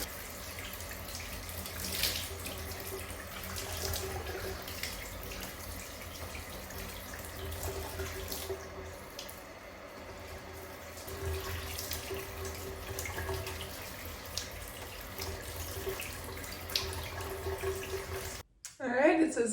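Tap water runs steadily while hair is rinsed after a deep conditioning treatment, a continuous splashing wash with brief handling noises at the very end.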